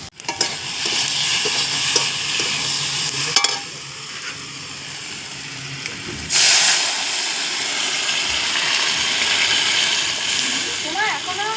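Potatoes fry in a pan with a loud, dense sizzle and hiss running throughout, broken by scraping stirs and a sharp flare partway through, while a voice speaks intermittently beneath it.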